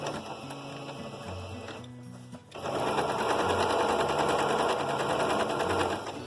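A domestic sewing machine quilts a decorative stitch, starting from the center along a marked line; its motor runs in a steady mechanical whir, pauses briefly, then resumes louder and continuous close by.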